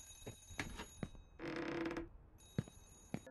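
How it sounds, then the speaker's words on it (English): Drawers slide open and shut in the horror game Remothered: Broken Porcelain: quiet wooden knocks and clicks, with one longer scraping rumble of a drawer being pulled, close and alone. "here I am opening and closing the drawers"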